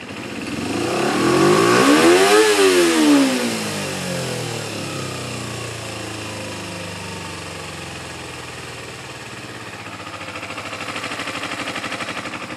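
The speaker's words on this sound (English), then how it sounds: "I'm going to open her wide up, get it to about 11 grand, maybe 12" Kawasaki Ninja 250 motorcycle engine revved wide open toward 11,000–12,000 rpm with a throttle-hanging fault: a loud rising rev that peaks, then falls off slowly and lingers near idle instead of dropping back promptly.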